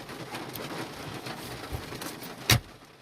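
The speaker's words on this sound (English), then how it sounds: "It's raining, by the way, if you hear the rain. It's raining hard." Steady broadband hiss of heavy rain throughout, with a sharp close tap or thud near the end; no talking.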